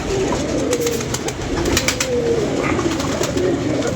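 Pigeons kept by a fancier coo in low, repeated throaty calls, close and continuous over steady background noise.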